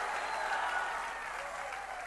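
A church congregation applauds in a steady, distant wash of clapping that stays even throughout, with no voices standing out.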